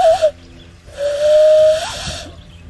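A loon call imitated by blowing through cupped hands: a short warbling hoot, then a longer sustained rising whistle, breathy and close, with brief pauses between the calls.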